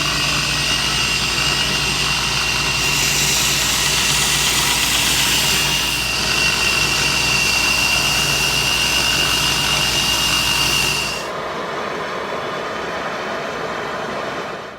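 Steady, loud grinding of an old file being shaped into a draw knife, a constant abrasive whine that runs alone for about eleven seconds, then cuts off and leaves a quieter machine hum.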